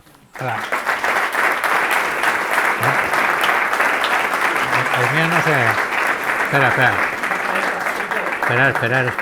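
An audience claps in sustained, dense applause at a talk about climbing Everest, loud and filling the room, while someone speaks over it.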